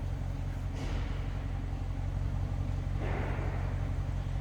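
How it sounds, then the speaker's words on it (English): A quiet 2014 BMW 650i Convertible with stock, unmodified exhaust idling with a low, steady rumble, smooth and even throughout, with faint passing noise in the background. "It's what you'd expect as far as sound-wise. No modifications to the exhaust. Very quiet running cars."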